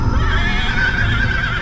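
A horse whinnies loudly and close in a dramatized reading of Poe's The Fall of the House of Usher, one drawn-out, wavering neigh over a low rumbling background.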